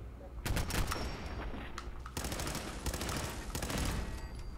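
Sustained bursts of automatic turret gunfire in Fallout 4, rapid crackling volleys that fill the scene almost continuously, pausing briefly near the middle before resuming at full intensity.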